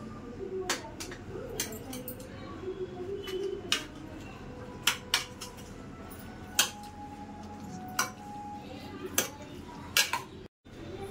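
A spoon stirs oil into chicken marinade in a bowl, giving scattered sharp clinks and taps against the dish at irregular intervals over a soft steady background hiss.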